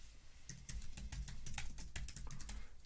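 Close, quiet typing on a computer keyboard, a quick, slightly irregular run of key clicks lasting a couple of seconds, with no one talking.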